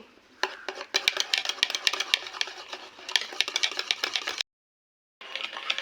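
A spoon stirs flour into Christmas cake batter with white oil in a bowl, making quick, steady clinks and scrapes against the bowl that pause briefly near the end before resuming.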